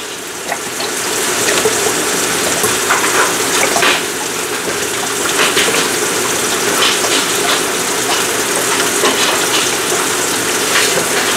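Broth from a large family-size carton pours into a 4-cup measuring cup in a home kitchen. A loud, continuous liquid gush runs steadily throughout, with no voices.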